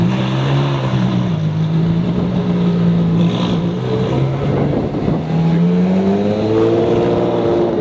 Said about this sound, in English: There's a loud F12.